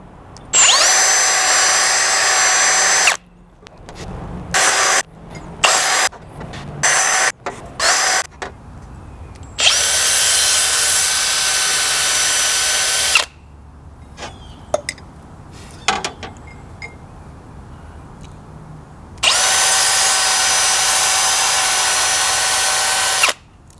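A power drill hones engine valve guides in a cylinder head from a 7.3 IDI turbo diesel, using honing oil. Loud whirring bursts of several seconds alternate with clattering handling noises in between.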